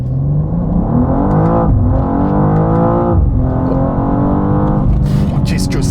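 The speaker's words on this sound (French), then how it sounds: "Je vous refais une petite accélération quand même." A BMW M2 accelerating hard, its engine note loud and close as the pitch sweeps upward through several gear shifts, with a brief burst of higher noise near the end.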